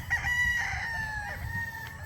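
Stag gamecock crowing once in a long drawn-out cock-a-doodle-doo, close and clear over low background noise on a farm.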